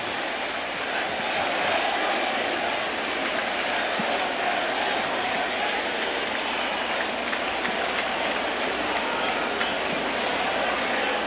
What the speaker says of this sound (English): electric crowd here in the Bronx.